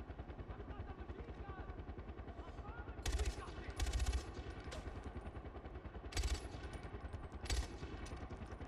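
Sniper shots crack out in the video game Far Cry 4, four loud bursts spaced a few seconds apart over a constant rumbling, chattering game backdrop.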